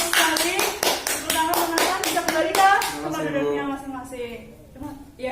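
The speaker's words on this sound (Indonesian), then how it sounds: "Tepuk tangan" Classroom clapping in a microteaching lesson on sound resonance, a run of sharp, evenly spaced handclaps in a fast steady rhythm for about three seconds, then fading into students' voices and chatter.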